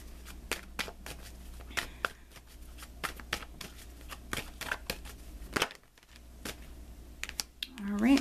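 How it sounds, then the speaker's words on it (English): Tarot cards shuffled by hand and a card pulled, producing crisp, rapid riffling and flicking bursts close up, with a soft pause midway and a faint voice near the end. "let me pull you an additional guidance card"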